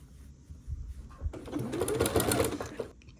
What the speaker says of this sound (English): I will just sew down that little bit until I get to where this piece, this folded over piece ends.